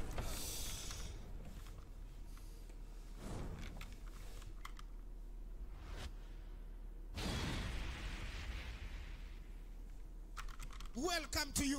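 Computer keyboard keys tapped in bursts while playing Tekken 7, faint clicking clusters mixed with game sound effects and whooshes in the background, fairly quiet throughout.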